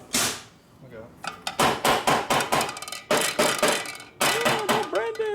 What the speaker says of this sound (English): Tap it with a hammer.